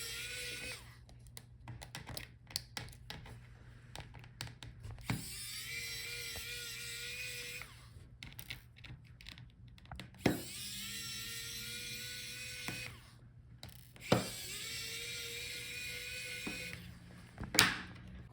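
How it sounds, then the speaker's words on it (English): Small screws being removed from the bottom cover of a Lenovo Yoga 7 14IML9 laptop with a screwdriver, with faint whirring and scraping, brief pauses and occasional light clicks, quiet and close over a steady background hum. "Now take out all those screws on the bottom."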